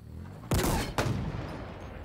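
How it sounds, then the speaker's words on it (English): Gunfire in the Halo Infinite video game: two sharp bursts about half a second apart, the first longer and louder, each trailing off into a faint rumble with no voices. "they're shooting at something over there"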